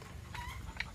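A chicken at a farm restaurant in Calinan, Davao City gives a brief, faint cluck against a soft background hum.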